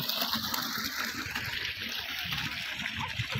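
Borewell water running steadily along sugarcane furrows in a field, a continuous close wash of flowing, trickling water with no pauses, and no talk over it.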